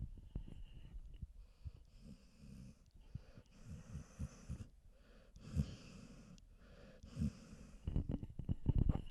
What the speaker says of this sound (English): You guys want to hear her snoring?